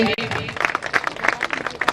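Audience clapping at the opening ceremony of MCL's first BioCoal factory in Madhya Pradesh, a dense burst of many hands with sharp individual claps standing out, while someone speaks over it.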